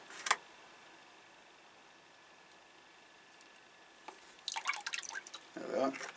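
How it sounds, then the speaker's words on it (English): Seaweed extract liquid is poured as a small splash into a container of orchid feed for paphiopedilums, giving a brief trickle and dripping near the end after a sharp knock and a quiet pause. "a splash of seaweed extract."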